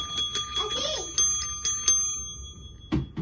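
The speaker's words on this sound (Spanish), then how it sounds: "¿Cómo se toca la campana?" A toy bell in a children's play kitchen rings in a quick series of bright metallic dings, with a child's and an adult's voices speaking briefly between the strikes.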